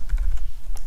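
Quick burst of typing on a computer keyboard while entering code, several crisp key clicks in rapid succession, close and clear.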